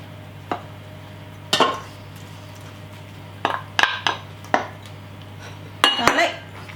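Ground meatball mixture with carrot and onion being worked in a bowl, with scattered clinks and scrapes of a utensil against the bowl at irregular intervals over a steady low hum.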